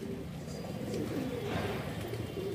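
Madrasi pigeons coo softly in a loft, a low, murmuring warble that runs steadily over a dense background hum.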